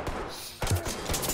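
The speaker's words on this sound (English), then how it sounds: "Where the hell is this gunfire coming from?" Bursts of rapid gunfire crackle in quick succession, with a brief lull before more shots ring out, in the video game Ready or Not, at a car dealership.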